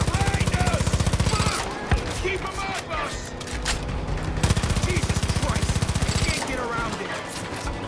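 Rifle fire in Far Cry 5 rattles along in rapid bursts at a roadblock, the shots loud and close, sitting over a dense mix of game sound and music.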